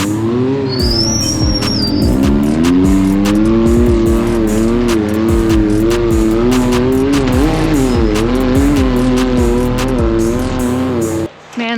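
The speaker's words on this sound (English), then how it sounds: "those Can-Am racers, they really make side-by-sides look cool" Can-Am side-by-side UTV race vehicles at King of the Hammers 2023 crawling over the Outer Limits trail's obstacles, a loud, continuous engine drone rising and falling with throttle, with rattling clatter throughout, close and unbroken until a brief dip at the end.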